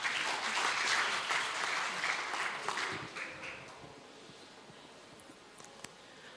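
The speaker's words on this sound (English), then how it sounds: "please give him a big round of applause" Audience applause for a speaker at a Falling Walls Lab Indonesia event, a loud sustained clapping crowd that gradually thins and fades over several seconds into near quiet with a few last claps.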